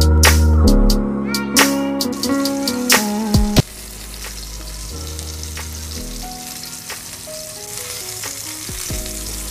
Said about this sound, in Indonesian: So rasanya salmon pun dah masak, dah pan seared.